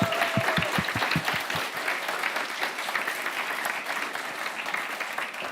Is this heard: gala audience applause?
yes